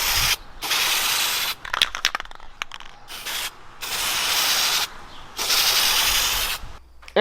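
Rattle-can spray paint hisses onto a car bumper in three long bursts of about a second or more each, separated by short gaps filled with faint clicks and shaking.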